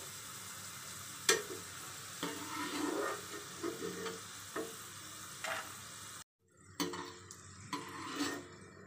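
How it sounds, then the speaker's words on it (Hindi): Potato pieces frying in hot oil, a steady crackling sizzle broken by a few sharp clinks and stirs, with a brief dropout near the end before the bubbling resumes. "आलू को भी हम गोल्डन ब्राउन होने तक फ्राई करेंगे"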